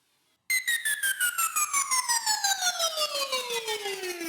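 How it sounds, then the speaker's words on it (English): A synth riser sweep with FM and delay glides steadily downward in pitch, pulsing in rapid, even repeats with echoing delay, loud and alone after a brief quiet start. "So you got one riser going up. Right, a little bit of delay on those, and another riser going down later."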